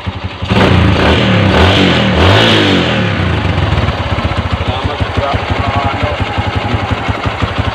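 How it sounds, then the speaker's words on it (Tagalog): Overhauled Wind 125 motorcycle engine revs hard in a couple of loud rising bursts up close, then settles into a steady, rapidly pulsing idle. "ito na yung in-overall nating Wind 125. Nai-road test na"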